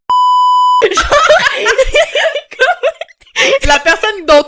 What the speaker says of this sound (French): je vais le biper